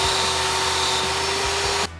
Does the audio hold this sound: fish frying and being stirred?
no